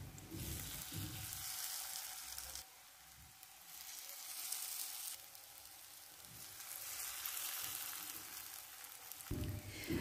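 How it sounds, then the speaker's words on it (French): Vegetables frying in a pan with a little vegetable oil over medium heat give a steady, dense sizzle and crackle that keeps going throughout, with slight swells and no talking. "Je vais les faire cuire dans cette poêle dans laquelle j'ai ajouté un peu d'huile végétale"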